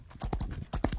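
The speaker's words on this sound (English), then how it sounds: "horse," Horse hooves clip-clopping in a quick, uneven series of hard knocks, close and fairly loud, standing alone with no talk.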